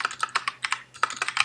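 Programming code is typed on a computer keyboard in a quick, close run of crisp key clicks with one brief pause midway.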